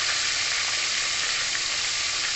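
Dried fish (daing) frying in hot cooking oil gives a steady, dense sizzle that stays close and constant throughout, with no talking.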